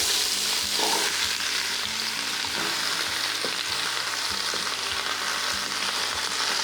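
Onions frying in olive oil in a pan over medium heat, a steady close hiss and crackle with light scraping of a utensil, no voices.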